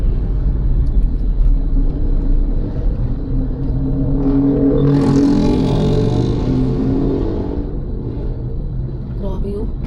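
Steady low road and engine rumble from inside a small delivery truck in traffic, continuous throughout and swelling slightly midway, with faint voices underneath.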